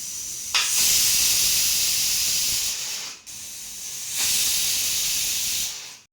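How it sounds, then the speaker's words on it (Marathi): A pressure cooker on a gas stove, cooking dal with drumsticks, lets off two long, loud, steady steam hisses, each cutting off sharply before the next. "कुकरच्या दोन शिट्या काढून घ्यायचं आहे"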